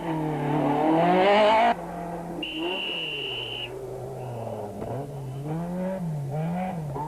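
A rally car engine roars loudly at the 1993 Volkswagen International Rally, then drops to a steady rumble with shifting pitch as the car churns through a water crossing, a brief high tone cutting in.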